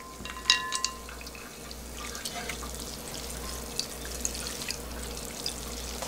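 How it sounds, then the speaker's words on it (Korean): Water splashes and swishes softly as cooked naengmyeon noodles are swirled and rinsed in a basin of ice water, with a few light clinks near the start. "시원한 물에다 넣어서 마지막에 한번더 헹궈줍니다"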